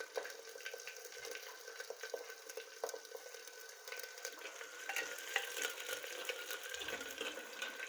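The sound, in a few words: garlic paste and green chillies sautéing in oil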